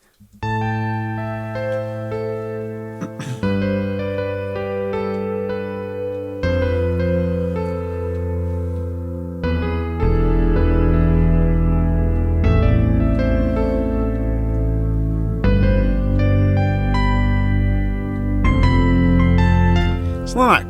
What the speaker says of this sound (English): this is an absolute cracking piano, so electric piano sound for the CP70